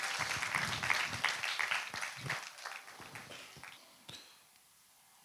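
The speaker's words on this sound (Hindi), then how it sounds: "वहाँ पर तालियों के साथ इन लोगों का स्वागत करें" A church congregation at a Hindi Sunday service applauds to welcome first-time visitors, a steady wash of many hands clapping at moderate distance that thins out and fades toward the end.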